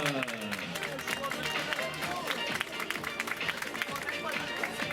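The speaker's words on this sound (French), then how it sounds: "on applaudit bien fort Florian Dureuil." Crowd clapping at the prize ceremony of a 10 km road race, steady dense applause throughout while an announcer speaks over it.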